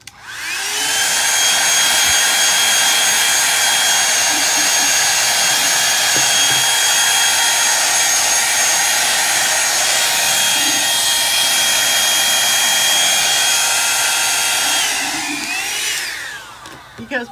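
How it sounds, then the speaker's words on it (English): A blow dryer blasts at a painted wooden bird house, a loud, steady, close whine with a hum that holds for about fifteen seconds before winding down and cutting off. "now I'm going to hit this with a blow dryer."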